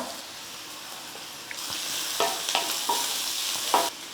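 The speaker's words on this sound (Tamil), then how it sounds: "வெங்காயம் வந்து வதங்கிடுச்சு" Onions sauté in a pan with a soft steady sizzle. Several close spatula scrapes and stirs grow more frequent toward the end.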